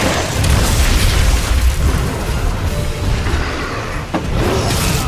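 A heavy explosive-round blast in a video game, a loud rumbling boom that fills the clip, with a deep sustained low roar and a brief sharper crack near the end, no voices.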